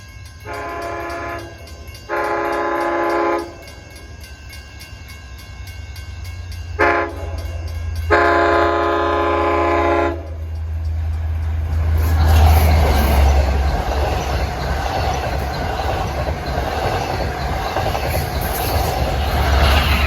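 An LIRR train on the Central/Montauk Branch sounds its horn in several long blasts, then roars past close by with rumbling, clattering wheels and a squealing rail noise building to a loud, sustained pass.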